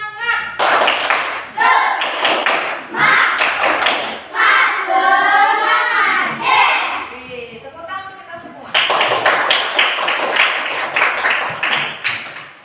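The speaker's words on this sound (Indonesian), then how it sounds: "Tepuk semangat." Schoolchildren in an Indonesian classroom perform the rhythmic tepuk semangat spirit clap, sharp patterned hand claps in bursts mixed with their chanting voices, with a sung or chanted stretch in the middle.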